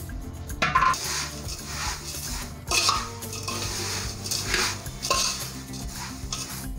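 A metal spoon stirs and scrapes through a chiwda snack mix of peanuts, coconut and lentils in a pan, producing rhythmic clattering sweeps and jingling bursts with a faint sizzle underneath.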